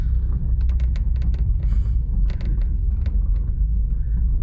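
An old Porsche 944 engine, driven for the first time in over 20 years, rumbles steadily up close, with irregular clicks and rattling mechanical noises over the drone.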